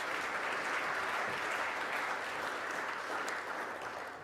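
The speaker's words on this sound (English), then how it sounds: "So I think that deserves a round of applause" Sustained applause from a large audience at a cricket awards ceremony, dense and steady clapping that holds for several seconds before easing slightly at the end.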